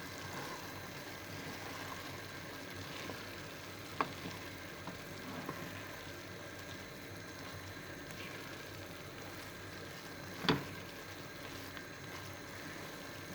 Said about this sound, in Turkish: Hemen bunları da bir yavaşça karıştıralım.